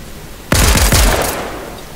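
Video game gunfire: a sudden loud burst of several rapid shots that rings out and fades over about a second.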